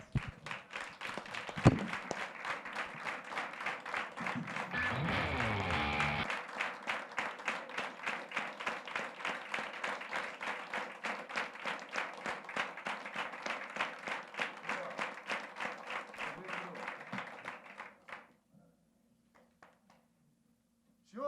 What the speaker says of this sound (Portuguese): nós vamos dar uma salva de palmas para Jesus